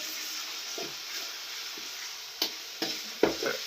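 Desi rooster chicken meat fries in a pan with a constant bright sizzle, broken near the end by a few scraping stirs of a utensil against the pan, with no talking.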